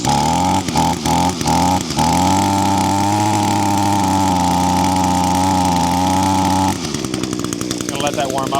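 An ECHO string trimmer engine warms up with a few sputtering stumbles at first, then holds a loud, steady, buzzing idle up close before it drops off and runs rough and uneven near the end.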